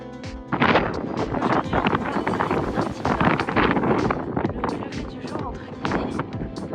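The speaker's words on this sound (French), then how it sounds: "Il y a beaucoup de vent" Strong wind near Tromsø, Norway buffets and roars against the microphone in heavy, uneven gusts, with no break in the rumble.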